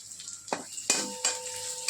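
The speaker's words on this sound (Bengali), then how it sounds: "পেঁয়াজটা ভাজা ভাজা হোক, রসুন, আদা, কাঁচা লঙ্কা" Onion, garlic, ginger and green chilli fry in a pan with a soft sizzle. A few sharp scrapes and clinks of a utensil against the pan break in at quick, irregular moments.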